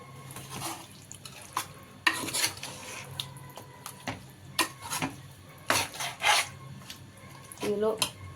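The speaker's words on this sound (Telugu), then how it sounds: "మొత్తం కలిసిపోయేంత వరకు మనం కలిపేసుకోవాలి." Chicken masala curry being stirred in a pot with oil left over from frying onions: irregular clinks and scrapes of a utensil against the pan, fairly close and moderately loud, alone without speech.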